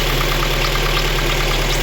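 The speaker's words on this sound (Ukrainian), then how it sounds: "Зараз я заведу двигун і покажу вам. Двигун холодний." A cold 1.6-litre VAZ 2109 engine idles with a leaking oil pump, giving a loud, steady, close-up hum with a fine rhythmic ticking that stays constant from start to end.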